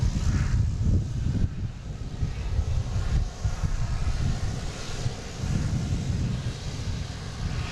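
KLM airliner passing at Boston Logan airport, a broad low engine rumble with wind buffeting, steady and moderately close, with no talking.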